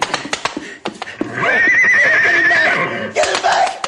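A horse neighs loudly in a long, shrill whinny lasting over a second, preceded by sharp knocks and thuds and followed by more clatter, set within a radio drama scene.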